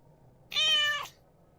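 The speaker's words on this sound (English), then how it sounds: "Cat sounds. More cat sounds." A cat gives one clear, fairly close meow lasting about half a second against a quiet background.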